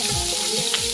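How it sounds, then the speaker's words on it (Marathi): Jitada fish pieces frying in hot oil in a pan: a brief, dense, continuous sizzle with crackling close by. "तर आम्ही तेलावरती मच्छी फ्राय केलेली आहे।"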